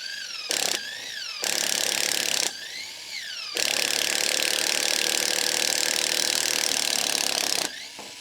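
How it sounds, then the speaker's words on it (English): A Makita 7.2V pen impact driver pre-drilling with a bit adapter: several short bursts of high, whining motor and rapid impact hammering, followed by one long sustained run of about four seconds, close and loud, with no talking. "Okay, so here's a Makita pen impact."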